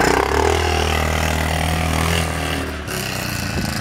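ATV engine fitted with a brand new muffler, running at a steady loud idle with a constant low drone throughout, dipping briefly near the end, with no talk.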